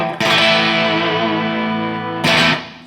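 A sustained electric guitar chord on the neck pickup through an ENGL amp, with mild overdrive and a warm, gritty bluesy edge, rings out, then a second strum follows near the end.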